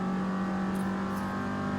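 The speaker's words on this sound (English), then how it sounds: "so we bogged down the car." A race car engine in Forza Motorsport drones at a steady, strained pitch as it bogs down through a tricky corner, a loud sustained hum with no talk over it.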